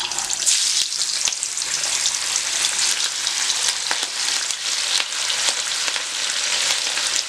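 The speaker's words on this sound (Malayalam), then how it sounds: "ഇനി നമുക്ക് മസാലയൊക്കെ പുരട്ടി വച്ചിട്ടുള്ള മീൻ ഇട്ട് കൊടുക്കാം." Masala-coated fish sizzles and crackles steadily in hot oil with curry leaves, a loud, close, continuous frying hiss with occasional sharper pops and no talking.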